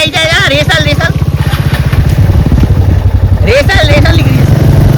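Royal Enfield Bullet motorcycle in first gear on a Leh-Ladakh ride, its engine thumping in a steady, close, loud rhythm while voices talk over it.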